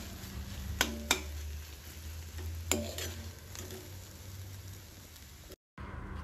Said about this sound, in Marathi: आता यामध्ये मी थोडीशी कोथिंबीर टाकून पुन्हा एकदा छान परतून घेणार आहे